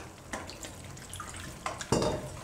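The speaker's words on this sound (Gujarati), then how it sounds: "તો હજી થોડુંક પાણી નાખીશું આપણે." Water poured into a pot of coconut and potato curry, a few faint splashes and a short pour near the end, quiet and close with soft clinks, no talking.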